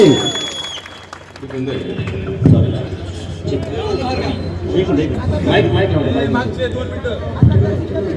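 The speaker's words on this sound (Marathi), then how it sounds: "टाळ्या झाल्या पाहिजे धनंजय मुंडे साहेबांसाठी" A crowd applauds at an outdoor political election campaign rally in Parner, Ahmednagar, with bursts of clapping and crowd noise mixed under an amplified speaker's voice.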